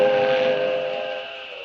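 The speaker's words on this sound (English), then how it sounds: "I'd get aboard that train if it weren't so slow." Steam locomotive whistle on a railway trestle, a single long steady blast that holds loud and close, then slowly fades, alone without voices.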